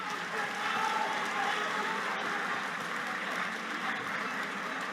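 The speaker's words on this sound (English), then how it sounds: "Please, let's clap for them." Sustained applause from an audience at a school quiz competition, a steady even wash of clapping for the contestants that holds for several seconds without a break.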